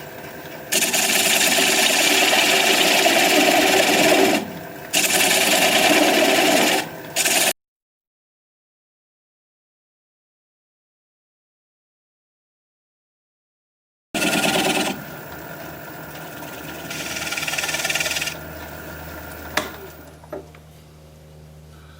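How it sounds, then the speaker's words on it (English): Yew wood spinning on a lathe at about 600 RPM, cut by a 3/8 inch standard grind bowl gouge to remove a tenon: steady loud rough shearing hiss that stops and restarts with a gap of silence, then fades. "Going to take a standard grind 3/8 inch bowl gouge and begin to removing the tenon"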